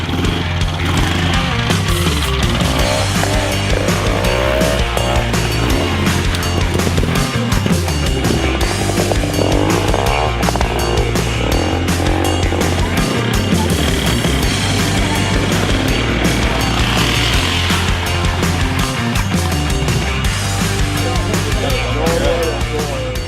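A 1954 model 19T 600 cc vintage trial motorcycle at a vintage trial event in Wingles, its engine close and loud with uneven revving, pulsing and rising and falling, while people talk over it.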